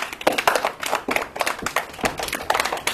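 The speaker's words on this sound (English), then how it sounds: "Clap if you can hear me." A classroom of students claps hands in a scattered, uneven patter of sharp claps that continues for a few seconds at moderate loudness.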